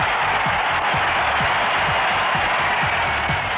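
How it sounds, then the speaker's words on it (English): Crowd of 49ers fans cheering at a Super Bowl, a broad, continuous roar of a large stadium audience heard from across the field, dense and unbroken. "listen to the Niners crowd across the way"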